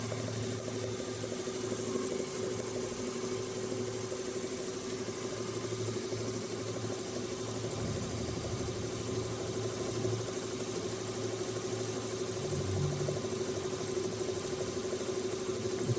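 An automatic computer embroidery machine stitching a cap gives a steady, continuous mechanical hum and drone at moderate volume, unbroken throughout with no voices.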